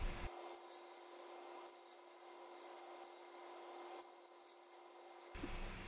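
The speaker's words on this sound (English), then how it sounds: "hollowing it out here, again with the Carter and Son bowl gouge" A Carter and Son bowl gouge hollowing a small wooden bowl spinning on a lathe, giving a faint, steady scraping rub over a constant motor hum, with no voices.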